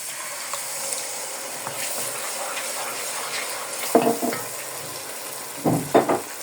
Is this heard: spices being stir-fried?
yes